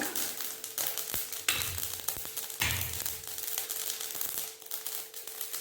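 Steady crackling sizzle of seeds popping in hot oil, with a few sharper spurts standing out, fairly close and continuous.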